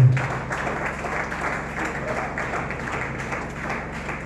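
Church congregation at a New Year Sunday service clapping and acclaiming the Lord, a sustained wash of applause from many hands with mingled voices, steady and moderately loud throughout.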